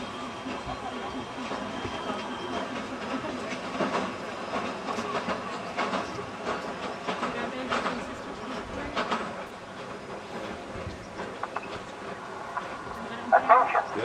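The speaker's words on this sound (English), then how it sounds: "Please stand behind the red line as the train is approaching." The Katoomba Scenic Railway train approaches with faint rail clatter and a soft hiss under crowd murmur and voices, the sound staying low and steady throughout.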